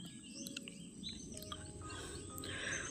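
Faint, scattered sparrow chirps and short tweets sound over a low background hum, several small birds calling at a distance.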